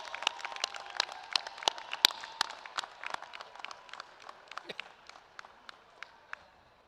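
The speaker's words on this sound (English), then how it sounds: "Applaud them as you stand here ready for graduation" Graduates at a college commencement ceremony applaud, a scattered patter of individual claps spread through a large hall, fairly faint and distant, thinning out toward the end.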